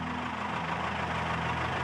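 A tractor and a pickup truck strain their engines together to pull a stuck Michelin truck free on a rough road in Paraguay's Chaco, giving a steady, low, rumbling idle-like drone.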